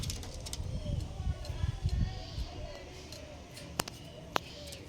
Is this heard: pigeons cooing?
yes